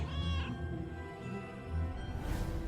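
A cat meows within a video game, its tonal calls rising over a dense bed of game music and effects, moderately loud and fairly close.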